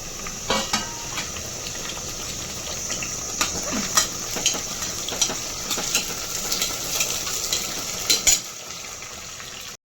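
Onion, chili and tomato fry in a pan for chicken biryani, giving a steady close sizzle with scattered scrapes and clinks of stirring throughout; no one speaks.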